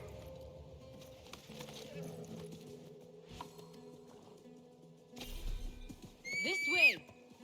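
A horse whinnies near the end in Assassin's Creed Mirage, a loud rising-and-falling neigh following quiet ambience, faint hoof and movement noises, and a character's speech.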